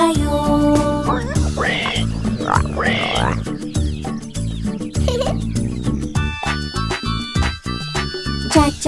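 Quacking from a duck in a sung Hindi version of a farmyard nursery rhyme, likely voiced by singers imitating the call, repeated in bursts over bright, busy music.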